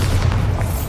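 A Bombarda spell explosion in Hogwarts Legacy makes one deep sustained boom with heavy low rumble, close and loud throughout the short moment.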